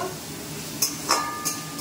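Vegetables frying in a home kitchen pan give a soft, low sizzle, punctuated by three quick metallic clinks of a utensil against the pan, with no voices.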